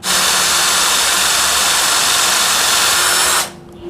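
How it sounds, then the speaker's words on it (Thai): Power drill boring a pilot hole for a self-tapping screw, a loud continuous whirring grind lasting about three seconds before cutting off abruptly into quiet. "เราอาจจะต้องใช้ดอกเจาะนำคือดอกที่มีขนาดเท่ากับลำตัวข้างในคือไม่ใช่เกลียวนะครับ"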